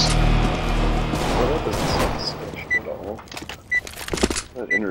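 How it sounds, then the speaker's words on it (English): Gunfire in the first-person shooter Counter-Strike: Global Offensive during a competitive match, with loud bursts of shots and impacts layered over booming game audio, sharp isolated pops toward the end, and players talking throughout. "Oh, I shot him like twice, and I didn't kill him."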